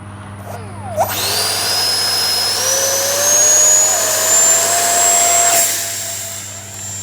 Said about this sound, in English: All right, Motor on. motor on.